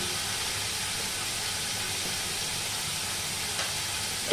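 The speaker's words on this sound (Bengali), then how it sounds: "আমি আলু পেঁয়াজটা একটু ভাজা ভাজা করে দিচ্ছি" Potatoes and onions fry in hot oil in a kitchen pan, a continuous, even, loud sizzling hiss that barely changes throughout, with a small tap near the end and no voices.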